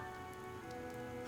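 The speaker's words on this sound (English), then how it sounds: "The rain is really coming down now." A steady, dense hiss of heavy rain falls continuously in the video game Fire Emblem: Three Houses, soft and even with no voices over it.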